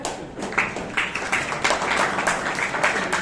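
A room full of Bangalore Toastmasters Club members claps steadily at a meeting, a dense run of close, fairly loud hand claps with a few sharper swells and no speech on top.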